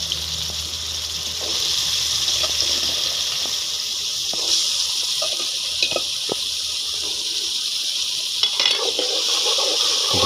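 Water is poured into hot ghee with chilli, giving a steady, loud hiss and sizzle. Scattered clicks and scrapes of stirring sound throughout, with no talking.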